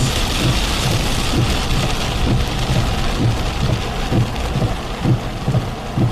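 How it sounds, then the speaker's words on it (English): Heavy rain from a Texas/Louisiana thunderstorm pounds steadily on a surface with a dense hiss, and low rumbles roll underneath throughout. "It's a little bit loud when we get into the heavier rain cores."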